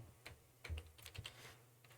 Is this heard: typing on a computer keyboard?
yes